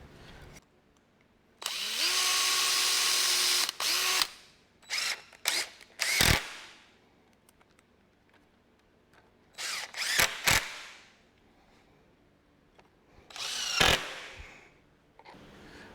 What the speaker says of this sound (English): I got some 2-inch wide strips that we're going to just screw everything together with